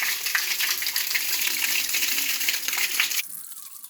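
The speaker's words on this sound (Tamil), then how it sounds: "இதில் தண்ணி லீக் ஆகுதா இல்லையான்னு செக் பண்ணுறதுக்காக தொட்டி முழுவதும் தண்ணி நிரப்பிடலாம்" Water gushes steadily into a tank being filled to check for leaks, a continuous splashing rush that cuts off abruptly near the end, leaving a quieter trickle.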